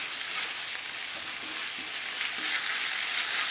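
Sausage frying with onion and tomato in a pan, a steady close hiss and sizzle throughout with faint stirring scrapes and no talking.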